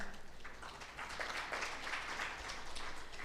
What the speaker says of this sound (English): give another round of applause to our panelists